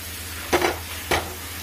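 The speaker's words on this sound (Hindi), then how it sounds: "अब इसे हम मिक्स कर लेंगे अच्छी तरीके से।" A potato mixture is stirred in a pan over a low hiss of heat, with two brief spoon scrapes about half a second apart, close by and otherwise quiet.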